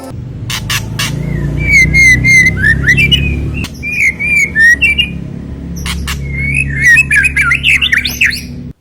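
A white-rumped shama (murai batu) sings loudly and close, rich whistled phrases broken by sharp chips and squawks in bursts with short pauses between them.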